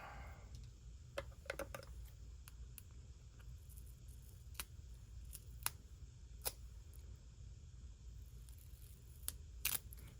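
Scissors trim the top edge of paper during a paper craft session, making scattered faint snips and sharp clicks over a low, steady background hum.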